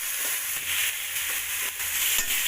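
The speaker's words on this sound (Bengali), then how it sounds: "আমরা কিন্তু এভাবে নেড়ে ছেড়ে পেঁয়াজগুলোকে তেলের সাথে কিন্তু সবগুলো উপকরণ ভেজে নেব।" Onions, green chillies and bay leaves frying together in hot oil in a pan, with a steady bright sizzle and soft scraping as they are stirred, close and continuous with no talk.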